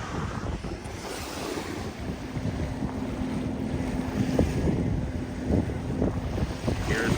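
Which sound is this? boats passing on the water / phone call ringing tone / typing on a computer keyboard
boats passing on the water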